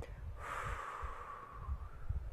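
A slow, steady breath is blown out through pursed lips as a COPD breathing exercise. A soft intake is followed by a long, even airy exhale lasting under two seconds, heard close and alone.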